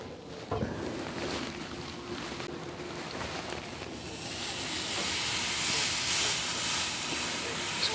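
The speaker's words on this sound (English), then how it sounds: "Okay folks, so now it's time to sear" Ribeye steaks hit the grate of a Hasty Bake Legacy charcoal grill, a sudden onset followed by steady sizzling hiss that swells louder and brighter over several seconds, with no talking.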